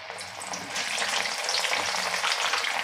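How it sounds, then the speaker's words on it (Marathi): Handfuls of chana dal fry in very hot oil in a strainer, giving a loud, even, continuous sizzle with faint stirring, close and uninterrupted by any voice. "गरम करत असताना कडकडीत गरम करायचं आहे आणि त्यानंतर आपल्याला इथे ही गाळणी आहे ती ठेवायची आणि त्यानंतर आपल्याला अगदी थोडी थोडी मुठभर अशी डाळ टाकायची"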